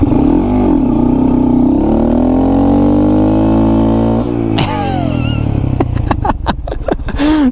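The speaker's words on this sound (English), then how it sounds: "I just did a freaking burnout, man." A Honda Grom motorcycle's small engine revs hard and loud during a burnout, the pitch climbing steadily, dropping, then rising again, ending in rapid choppy bursts as the throttle is blipped.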